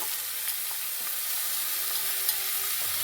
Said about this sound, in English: So while I have this sauteing here